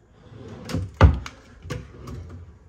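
A wooden drawer in a Miami Beach hotel suite opens and closes with a few soft slides and one sharp thunk, fairly close and quiet, with no talking.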